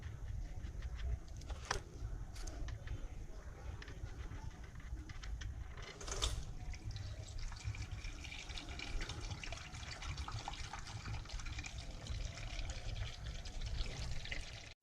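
Engine oil drains from a Maruti Suzuki Ritz into an oil pan, a steady low pouring and splashing stream running continuously and fairly close, with a few faint clinks over it.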